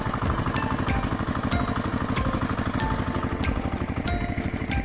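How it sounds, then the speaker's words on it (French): A tractor engine runs steadily and loudly, its dense low rhythmic chugging continuous throughout with a few faint metallic ticks above it. "Tracteur."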